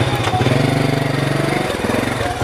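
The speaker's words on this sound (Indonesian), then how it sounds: "Mending motor kamu masukin dulu" A motorcycle engine idles close by with a rapid, even chugging pulse, loud and steady for a couple of seconds as the bike is brought inside a house.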